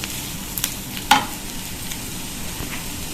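Vegetables for veg spring rolls are stir-fried in a pan: a faint, steady sizzle with a few sharp scrapes and clinks of a spoon stirring, one louder clack near the middle.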